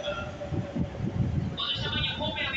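A Keisei 3700 series local train bound for Keisei Takasago rolls into Nippori Station with a steady rumble and rail clatter. A higher whine rises toward the end, with platform ambience around it.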